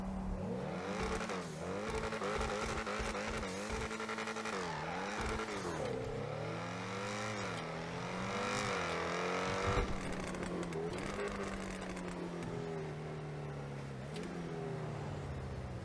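The Ocelot XA-21 supercar in GTA Online revs and accelerates through rising and falling gear changes, a loud continuous engine note with occasional tire squeal, heard alone.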